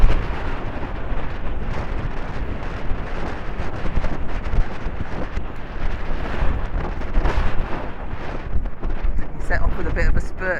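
Strong wind roars and buffets the microphone continuously while riding out on horseback, loud broadband gusting that masks most other sound, with a rider speaking faintly underneath.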